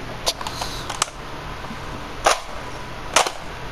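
Four crisp, snappy shots from an old toy-like gun in Fortnite crack out at uneven intervals over a steady high electronic hum, fairly close and alone.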